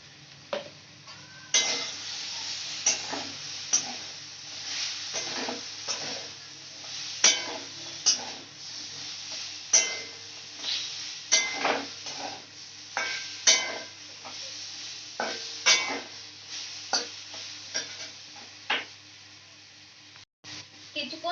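A spatula stirs chalta and cucumber chutney with cumin powder in a pan, giving irregular scraping and clinking strokes over a low sizzle, with a pause before the final scrapes.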